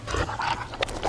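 Zombie dogs in Resident Evil: Apocalypse snarl and pant in short, rough bursts, a few quick growling breaths close by amid a busy movie soundtrack.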